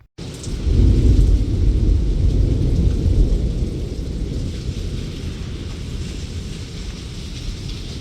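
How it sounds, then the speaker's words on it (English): A heavy thunderstorm roars close by, a loud rolling burst of thunder at the start easing into a steady wash of pouring rain that fills the rest of the stretch without any voices. "we had that gorgeous thunderstorm."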